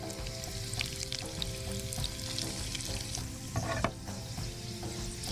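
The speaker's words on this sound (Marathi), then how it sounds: "तुम्ही कढीपत्ता एक आठ दहा पानं हिंग पाव चमचा" Curry leaves and a pinch of asafoetida spluttering in hot oil for a jackfruit bhaaji, a continuous close crackling sizzle with scattered pops and a stir near the end, no voices.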